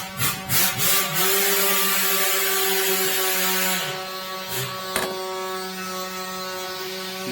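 Screwdriver work on a Ford F150 vent valve: close, loud mechanical ratcheting and tool noise with a few sharp clicks and knocks, steady at first then easing off, no speech.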